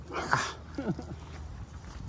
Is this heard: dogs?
yes